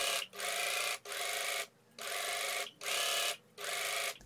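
A sewing machine top stitches the seam allowance of a rugby shirt in four or five short bursts of rapid stitching separated by brief pauses, close and fairly quiet.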